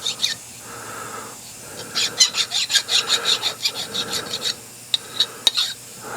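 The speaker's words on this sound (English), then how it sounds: "I got to deburr it all real good." A hand file rasps over a metal part for a nine-cylinder radial engine, deburring its edges in close, rhythmic scraping strokes with a few sharp squeaks.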